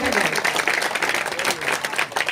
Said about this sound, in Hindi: फिर एक बार जोरदार तालियों से स्वागत करिए सर